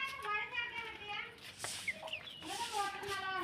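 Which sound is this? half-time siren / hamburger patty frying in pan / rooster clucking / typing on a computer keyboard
rooster clucking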